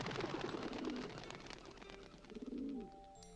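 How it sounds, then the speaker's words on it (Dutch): Pigeons coo in low, rolling calls, one early and another near the end, over a busy, noisy outdoor background with no voices. "Jaag die duiven niet zo op."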